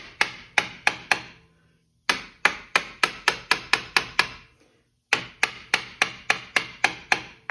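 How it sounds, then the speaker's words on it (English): Light, sharp hammer taps on the brakes of a 2003 Pontiac Grand Am, in quick bursts of five to eight strikes separated by short pauses, each tap ringing briefly and close. "It sounds loud, but I'm just giving it little tiny baby taps"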